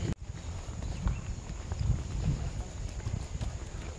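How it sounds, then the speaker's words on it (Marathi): Horse hooves clip-clop on a monsoon trail ride at Matheran, steady walking beats close by over a hissy outdoor background, with a short thump at the start and people talking faintly nearby. "घोडा घोडा"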